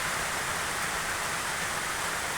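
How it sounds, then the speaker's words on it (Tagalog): Heavy rain pours down in a dense, unbroken hiss during a storm, steady and loud throughout with no voices. "kusog kayong ulan"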